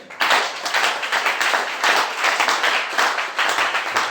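A church congregation claps together in steady rhythmic applause, a close, continuous wash of hand claps lasting a few seconds.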